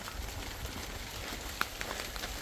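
Rain falls outside in Zanzibar, a steady soft patter with occasional nearby drips and one sharper drop, fairly faint and without talk.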